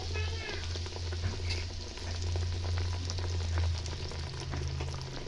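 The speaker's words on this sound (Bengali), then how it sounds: "তেলের মধ্যে আমি একটা একটা বেগুন দিয়ে ভেজে দেবো।" Eggplant slices frying in white oil over medium-low flame, a steady close bubbling sizzle that runs the whole time beneath a persistent low hum.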